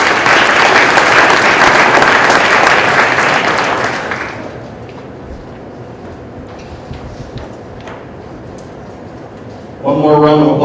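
Dense audience applause at a high school winter sports awards ceremony, loud and steady for about four seconds, then dropping to a low room murmur before a speaker's voice returns at the end.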